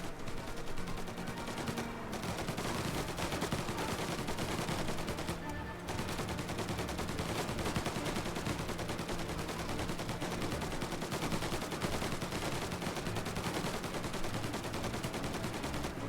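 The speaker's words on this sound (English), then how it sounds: "You guys can stop shooting." Gunfire in Mafia: Definitive Edition, dense and continuous, with rapid automatic bursts layered into a near-constant roar that only briefly thins twice during the barrage.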